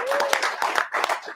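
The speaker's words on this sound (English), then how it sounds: "I think we can give you a round of applause." Brief burst of audience applause at a UKIP leadership hustings, scattered claps rising and falling over voices in the hall.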